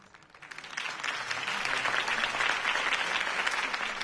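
Steady applause from a large crowd at a campaign speech, swelling in the first half-second and then holding loud and dense throughout.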